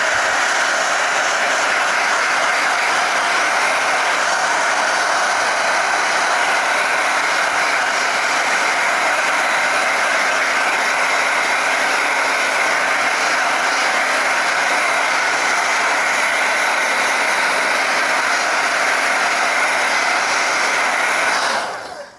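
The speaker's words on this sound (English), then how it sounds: "Okay, so I just got a hairdryer." A hair dryer runs continuously at a loud, even whir, close by, then cuts off at the very end.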